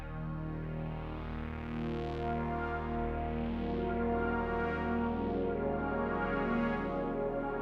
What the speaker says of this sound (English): I'll do an octave split so this is really low.